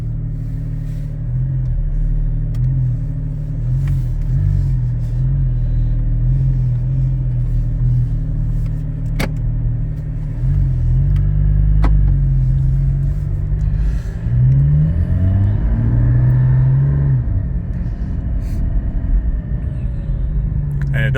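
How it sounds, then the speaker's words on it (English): A car fitted with a Soul Performance V2 exhaust drives along with a steady low engine drone and rumble, rising and falling in pitch as it shifts and accelerates, close and continuous throughout. "I've been requested to drive the car and let us hear what it sounds like driving it, Terry."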